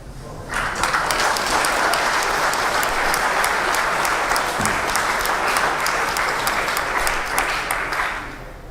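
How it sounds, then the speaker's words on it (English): A debate audience breaks into loud, sustained applause, dense crowd clapping that swells in quickly, holds strong for several seconds and eases off slightly at the end. "Why are you applauding that?"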